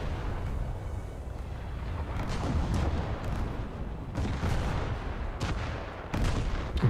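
155 mm naval guns firing in a naval combat game: dense, continuous booming and blasting with several sharper loud reports standing out over a heavy low rumble, with no talk.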